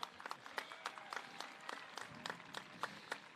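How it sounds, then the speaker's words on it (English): Scattered applause from a high school graduation audience, steady claps with sharper individual claps popping out, heard from some distance at a modest level. "Let's give another round of applause to Mrs. Smith."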